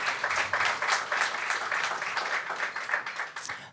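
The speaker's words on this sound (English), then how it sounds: "let's have a round of applause for our phenomenal speakers" Conference audience applauding the speakers after a panel introduction, a dense, steady wash of many hands clapping close by that fades slightly toward the end.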